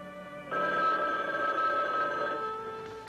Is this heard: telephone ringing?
yes